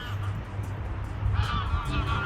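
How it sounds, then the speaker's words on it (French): Geese honk outdoors, a few scattered calls in the second half over a steady low rumble, moderately near. "Alors on entend les oies."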